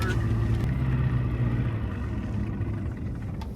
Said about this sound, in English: I'm gonna kill this motor.